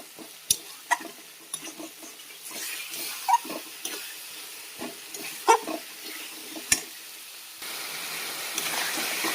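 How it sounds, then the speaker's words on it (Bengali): Spiced masala for a Bengali aloo dum stir-fried in a pan, with a spatula scraping and knocking in irregular strokes over a soft sizzle, close and fairly quiet, no talking. "এবার মশলাটা আমি ভালো করে"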